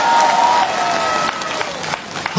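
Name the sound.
crowd applauding at a political speech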